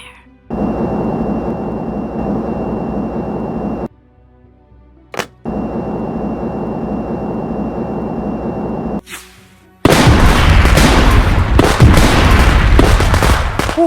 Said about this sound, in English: By flipping this switch, I'll cause all missiles to self-destruct.